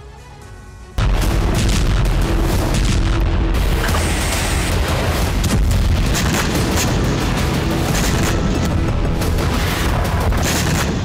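Explosions at a Ukrainian weapons depot storing missiles and MLRS rockets hit in a Russian strike: after a second of quiet, a loud, continuous roar of blasts and rumbling booms fills the rest of the clip with no break.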